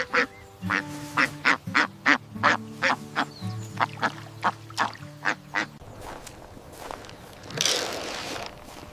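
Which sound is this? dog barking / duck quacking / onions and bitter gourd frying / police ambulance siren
duck quacking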